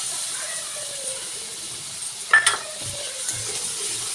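Melon seed and cashew paste for dum aloo sizzles gently in the pan, a fairly quiet continuous hiss broken by a brief clatter of stirring midway.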